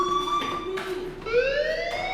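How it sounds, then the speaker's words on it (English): A fire alarm blares in the video game Life is Strange, a loud electronic tone that repeats in steady pulses, with its pitch shifting partway through, heard close and alone without speech. "do you hear that fire alarm?"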